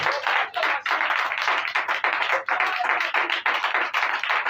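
A church congregation claps for Jesus in steady, dense applause that fills the space, with quick overlapping hand claps pulsing throughout and no talking.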